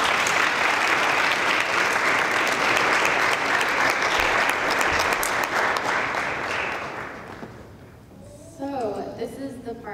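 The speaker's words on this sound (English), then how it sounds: "So let's all give them a big round of applause." An audience at a panel talk on American Muslim women's identity gives the panelists a big round of applause, thick sustained clapping that fades away near the end before a voice begins speaking.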